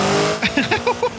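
Car engine in Forza Horizon 5 revving up through a few quick upshifts, each rise in pitch broken by a short gap, loud and close over a brief run of acceleration.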